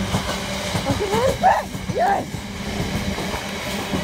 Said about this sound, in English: Yep, it's class 6671, Harry Beck, in the London Transport White Livery.